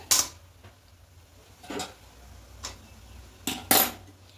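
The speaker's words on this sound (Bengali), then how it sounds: "এবার এখানে স্ট্যান্ড দিয়ে দেবো একটা" Metal stand set down into a cooking pot over boiling water, several sharp metallic clinks and clatters spaced apart against a quiet background.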